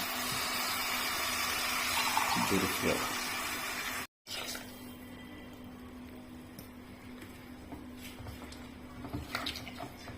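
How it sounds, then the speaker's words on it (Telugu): Water pours steadily into a pot of fried ingredients for green peas pulao, a continuous rushing hiss, briefly cut off partway through, then resuming more quietly with faint clinks. "నేను 1:2 వాటర్ పోస్తున్నాను"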